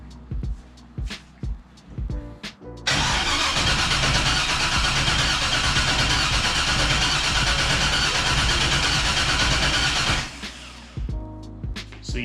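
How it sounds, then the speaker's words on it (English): A dead Mustang engine cranks over steadily for about seven seconds with an uneven, lopsided rhythm from a dead cylinder, loud and close, with quieter clicks and handling noise before and after. "you can hear as this thing rotates over, you'll hear a dead hole."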